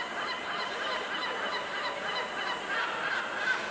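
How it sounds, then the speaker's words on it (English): A goose-like bird honking outdoors, with repeated nasal honks and calls at moderate distance over a continuous background hiss. "The bird likes that idea."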